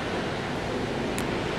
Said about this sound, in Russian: как тебе море?